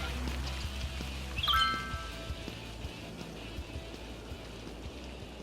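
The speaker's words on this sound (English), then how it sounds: "It's raining, but that's not going to do much to stop the internal fire." Rain falls in the city-building game Cities Skylines as a soft, steady patter with scattered drop ticks and a low background hum; a brief chirp cuts in once early on.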